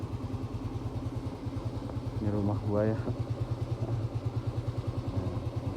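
A Yamaha Mio M3 scooter engine idles while warming up, a close, steady low putter with even pulses throughout, while someone speaks briefly over it.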